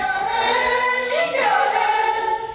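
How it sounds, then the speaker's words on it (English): A distorted, roomy singing voice slides between pitches, gritty and edgy, re-amped through an old guitar amp and cab in a wooden room, with no other sounds. "So we ran all the vocals through this old guitar amp into a guitar cab in this wooden room"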